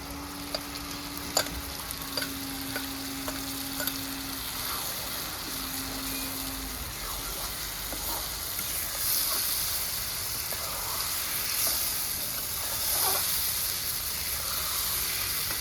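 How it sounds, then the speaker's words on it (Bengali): Elephant-foot taro sizzles and hisses frying in oil in a wok, with occasional scraping and stirring clicks, the frying getting a little louder and more steam-like later on. "এগুলো বেশ লাল লাল করে হয়ে গেছে ভাজা এবার আমি এর মধ্যে মানকচুটা তুলে দেবো"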